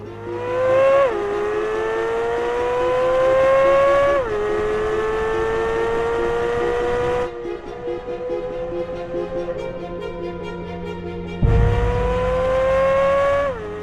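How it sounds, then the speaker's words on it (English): A Chevrolet Corvette Z06 on a race track, its engine climbing through gears in loud, rising whines with sharp shift drops, a brief quieter stretch, then another hard pull. "This car goes so fast, so easily,"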